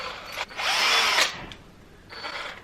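A handheld power drill is fitted with a bit in a bedroom before drilling into a wall, giving a brief whirring burst, a short pause and a softer second spin, close and alone.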